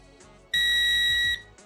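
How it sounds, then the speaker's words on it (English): A Pulse Dive underwater metal detector gives one long, loud, steady electronic beep of about 0.8 seconds as it switches into dive mode, with quiet handling noise before and after. "And wait for the long beep."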